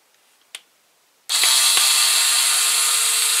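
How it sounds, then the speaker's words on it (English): Power screwdriver driving a screw on a Tamiya G6-01 RC car differential: a single click, then a loud, steady high whine that starts abruptly and runs continuously, close to the mic. "I'm going to take my screwdriver here, or"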